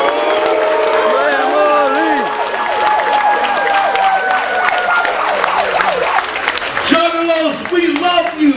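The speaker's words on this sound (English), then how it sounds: "Give Joe Steady a round of applause!" A crowd at an Insane Clown Posse seminar at the 2014 Gathering of the Juggalos claps and cheers over a loud, sustained din, with a wailing tone sweeping through the noise; a voice cuts in near the end.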